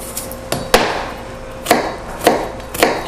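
Kitchen knife chopping food on a cutting board during a cooking demonstration, a few sharp separate chops spaced irregularly, close and fairly loud, no talking.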